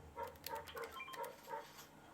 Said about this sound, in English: It summoned a dog